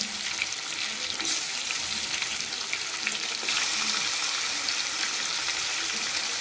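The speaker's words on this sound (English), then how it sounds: "So I'm dropping all the marinated chicken in this ghee." Loud, constant sizzling of marinated chicken frying in hot ghee, close by, with a sharper burst of crackle early on.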